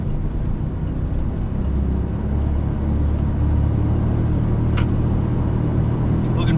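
Low, constant engine and road rumble from inside a car stuck in heavy traffic, a steady droning hum with faint passing vehicle noise and a couple of brief clicks.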